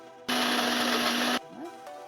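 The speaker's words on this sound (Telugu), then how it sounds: "3 వెల్లుల్లి రెబ్బలు, చిన్న అల్లం ముక్క, పచ్చిమిర్చి వేసి మిక్సీ మెత్తగా గ్రైండ్ చేసుకోవాలి" A mixer grinder whirs loudly for about a second, grinding soaked moong dal with salt, garlic, ginger and green chilli, then cuts off abruptly as the motor winds down into a quiet room.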